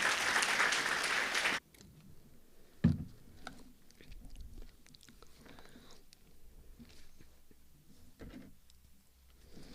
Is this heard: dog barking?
no